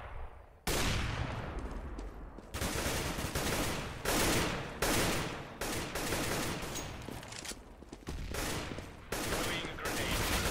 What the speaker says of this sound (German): Der schießt auch einfach nur aus Verdacht